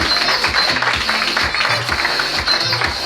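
Audience applause at a live fringe comedy show in Brighton, a steady wash of clapping continuing for several seconds with no voice over it.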